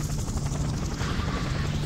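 A helicopter in the video game Just Cause gives off a steady, loud rotor thump and engine drone, continuous and close throughout with nobody speaking.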